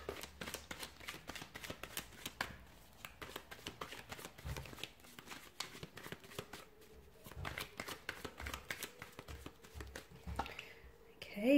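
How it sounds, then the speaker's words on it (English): Cards riffle and flap rapidly in repeated quick bursts, close and fairly soft, with a brief murmur of speech near the end. "So we'll give the cards a shuffle here"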